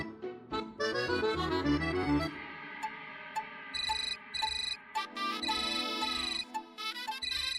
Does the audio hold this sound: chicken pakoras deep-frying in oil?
no